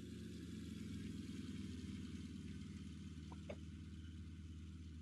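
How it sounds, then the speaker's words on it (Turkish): Pagani Zonda engine idling in the Car Mechanic Simulator 2021 video game, a steady low mechanical drone that runs evenly throughout with no talking and only a brief faint blip near the end. "Ben sadece motorun sesini duymak istedim aslında."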